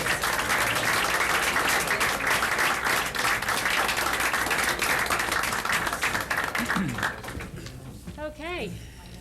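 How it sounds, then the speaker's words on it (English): A school board meeting audience gives students a loud, sustained round of applause that fades near the end, with voices rising over the tail of the clapping. "another round of applause for these fine students"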